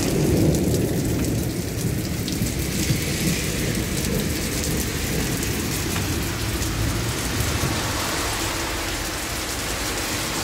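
Steady rain falling in European weather, with a continuous rolling thunder rumble running beneath it throughout and no voices.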